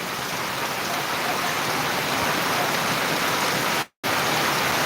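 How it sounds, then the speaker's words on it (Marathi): Steady, dense monsoon downpour of heavy rain over farm fields in Buldhana, Maharashtra, filling the whole clip, loud and close, with a brief cut to silence near the end. "जवळपास एक तासापासून मुसळधार पाऊस सुरू आहे"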